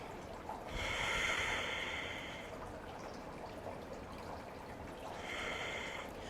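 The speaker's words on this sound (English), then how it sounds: "Breathe deeply here." Slow, deep breaths during a yoga moon salutation, two audible airy inhales or exhales a few seconds apart over soft room noise, close and moderately quiet.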